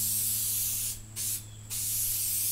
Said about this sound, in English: What I'm using here is a spray-on contact cement.